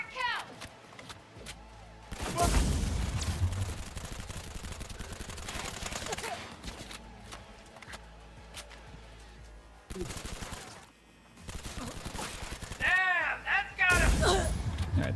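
Submachine gun fire in a video game, heard in loud, dense bursts over several seconds with pauses between volleys, plus other game sounds; speech is also present.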